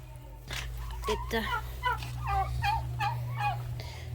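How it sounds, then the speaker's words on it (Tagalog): A turkey gobbles outdoors in repeated warbling bursts over a steady low background hum, fairly close and moderately loud. "So my turkey is here."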